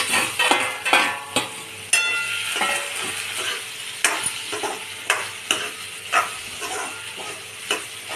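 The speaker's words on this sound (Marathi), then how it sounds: "आपण ही भाजलेली भेंडी याच्यामध्ये आता घालतो" Okra with turmeric stir-fries in a pan, where a steady sizzle is punctuated by frequent sharp scrapes and taps of the spatula against the pan, close and alone.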